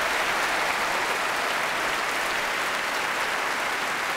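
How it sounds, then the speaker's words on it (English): A debate audience gives the debaters a sustained round of applause after a surveillance debate: dense, even, continuous clapping from a large crowd at steady loudness, with no talking. "So a big round of applause for our debaters."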